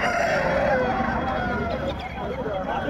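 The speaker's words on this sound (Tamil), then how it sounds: "சேவல் இருக்கு." A rooster crows at a chicken market at night, one drawn-out crow near the start amid a background of crowd noise and clucking, with people talking around it.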